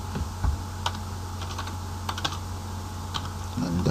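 Light typing on a computer keyboard sounds as scattered soft keystrokes over a steady low hum, close and fairly faint, with no one speaking.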